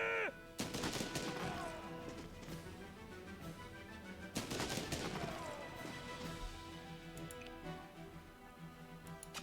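Two loud volleys from twelve rifles in the Banner of the Maid strategy game, each a sharp broadband crack with a ringing, decaying tail, set over a steady backdrop of game sound.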